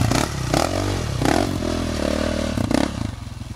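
Motorbike climbing a hill under steady engine drone, with loud clattering scrapes and thumps as gear tumbles off, several sharp knocks spread through the run and a final bump near the end.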